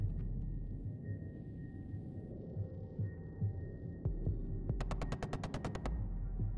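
Gunfire in the video game Ghost Recon Wildlands: a low background hum, a few scattered thumps, then a quick rhythmic string of about ten sharp shots near the end, moderately loud.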